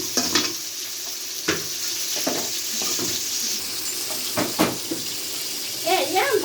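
Shrimp frying in a pan with spinach for a home recipe, a soft continuous sizzle with intermittent stirring knocks and scrapes, a brief voice near the end.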